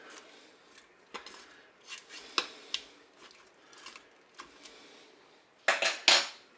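Metal utensils clink and scrape against a Cookeo pot while turkey and summer vegetable skewers are turned, giving scattered light taps and a louder clatter near the end, close up.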